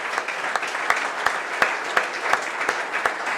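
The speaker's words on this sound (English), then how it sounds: "So I think that deserves a round of applause" Steady applause from a crowd at a college football head coach's media conference, dense clapping with sharper individual claps popping out, continuing without pause.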